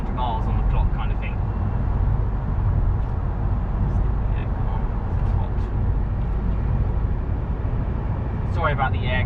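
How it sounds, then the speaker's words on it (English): Steady, loud rush of air conditioning blowing inside a 2020 Mk8 Volkswagen Golf R on a hot day, a constant broadband roar that fills the cabin and continues unbroken while someone talks over it. "Sorry about the air conditioning and the blows, it's just a very hot day."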